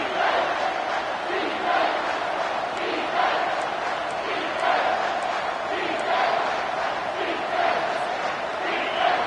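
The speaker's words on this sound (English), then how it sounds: "Here comes this home crowd as the defense tries to get off the field on third down." A home crowd at a college football game roars steadily in a large stadium on a third-down defensive stand, a dense sustained wall of cheering and yelling with surging swells throughout.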